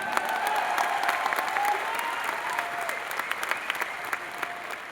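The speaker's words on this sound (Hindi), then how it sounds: "इन लोगों की तालियों से इस बात का एहसास होता है कि आपके लिए ये आत्मा से, दिल से ताली मार रहे हैं" An audience in Delhi's Tyagraj Stadium claps nonstop, giving dense, even applause that stays loud and close for the whole stretch, with no voices above it.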